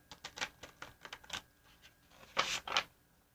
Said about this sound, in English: I'm a little too rough in my shuffling